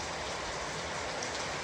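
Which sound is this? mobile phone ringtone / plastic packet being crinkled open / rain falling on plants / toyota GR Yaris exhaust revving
rain falling on plants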